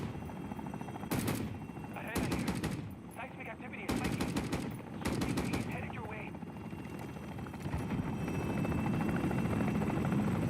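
In COD MW3 Zombies, a helicopter roars continuously nearby while bursts of machine-gun fire rattle in several loud volleys, with a voice talking intermittently underneath.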